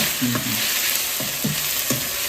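Food frying in a pan gives a steady, loud, close sizzle throughout, with a few brief clinks of a utensil stirring.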